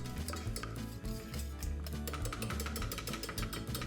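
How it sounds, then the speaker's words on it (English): Mustard powder being stirred into a sauce mixture for Welsh rarebit, with repeated scraping and clinking of a utensil against the pan in a busy, continuous rhythm at close range. "Now give those a good mix in."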